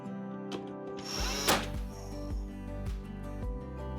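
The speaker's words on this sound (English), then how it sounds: "The usability of this cordless floor nailer is better than expected." Cordless floor nailer driving fasteners while installing flooring in a narrow entrance hallway, a sharp loud burst followed by a steady mechanical drone with regular pulses about every half second.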